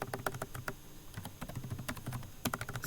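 Rapid, uneven typing on a computer keyboard while writing code for a ReactJS app, keys clattering close and clear in bursts with short pauses, no voice over it.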